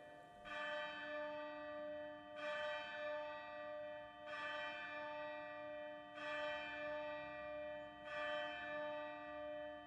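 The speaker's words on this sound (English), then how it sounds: "The bell invites me." A deep church-style bell tolls five times at slow, even intervals, each stroke ringing out and decaying before the next, heard alone as a sound effect in a staging of Macbeth.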